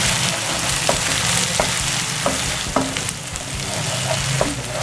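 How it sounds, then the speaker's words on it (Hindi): Ginger garlic paste fries with onions over high flame for Hyderabadi bagara baingan, a loud, dense sizzle with regular clicks of a spoon stirring through it. "इसे इस तरह से हम प्याज में अच्छे से मिक्स कर लेंगे।"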